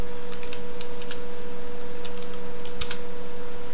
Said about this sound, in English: I am going to type numbers here